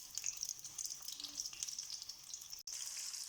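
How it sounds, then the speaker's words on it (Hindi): Chopped onions sizzle and fry steadily in hot oil for yakhni beef pulao, a close, continuous crackling hiss with no talking. "ये हमने अच्छी तरह फ्राई कर लेना प्याज को।"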